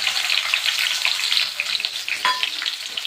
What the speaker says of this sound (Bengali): এবার আলুগুলো একটু ভেজে নিচ্ছি,